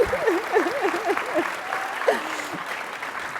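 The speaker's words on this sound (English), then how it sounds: "let's give them another round of applause" Audience applause at a panel event, clapping under a sustained tonal voice or sound that rises and falls on top, continuing throughout.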